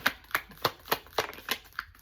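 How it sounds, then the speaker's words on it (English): A tarot card deck is shuffled up close in a quiet room, producing about eight quick riffling bursts in a steady rhythm, with no one talking. "One more shuffle."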